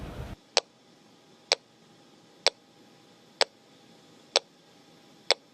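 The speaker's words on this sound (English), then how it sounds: "So this is the pinger right here, and we're just going to play for people the noise it makes." An aircraft flight data recorder's underwater locator pinger emits sharp, evenly spaced ticks about once a second, like a metronome, six clicks, clear against a faint hiss.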